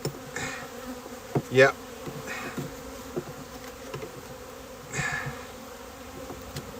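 Honey bees buzz steadily around an open hive during a February inspection, with individual bees droning close past now and then over the continuous hum, while a person briefly speaks.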